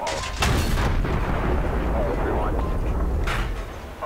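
Tank cannon fire in a World of Tanks-style battle featuring a Soviet Object 140 medium tank, two heavy booming shots about three seconds apart, loud and close, with rumbling battle noise between them.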